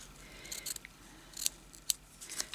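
Scissors trim the edge of a paper junk-journal page in a few quiet, quick snips close to the microphone.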